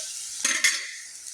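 Onion roasting in a pan gives a brief burst of two quick scrapes over a soft sizzling hiss.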